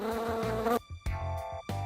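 Housefly buzzing in steady harmonic bursts, loud and close, with brief gaps between three or four passes.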